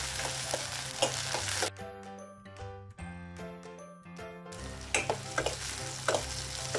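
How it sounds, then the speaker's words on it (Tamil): Turkey berries sizzling and crackling as they are stirred and sautéed in a hot pan, with a bright tonal chiming passage in the middle and a few clinks. "சுண்டைக்காய் சேர்த்து கொஞ்ச நேரம் வதக்கிக்கலாம்"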